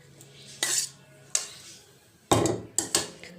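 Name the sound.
knife cutting the stem off a brinjal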